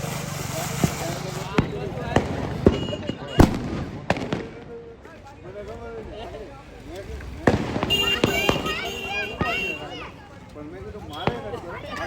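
Diwali firecrackers and fireworks go off in a lively outdoor celebration, with repeated sharp cracks and bangs at irregular intervals, some close and loud, over excited voices and crowd chatter throughout.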